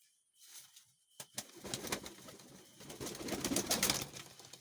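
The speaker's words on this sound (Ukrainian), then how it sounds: "Ось такий перший голуб. Випускаємо його." Wings flap and clatter as a pigeon is released by hand and takes off, with soft cooing and rustling nearby; moderately loud bursts rather than steady sound.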